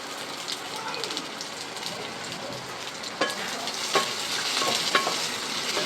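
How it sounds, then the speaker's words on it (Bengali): Garlic, onion and dry red chillies fry together in two or three spoons of oil in a pan. There is a continuous close crackle with scattered sharper pops, growing slightly louder toward the end. "এবার এই সব একসাথে দিয়ে আমি ভেজে নেবো"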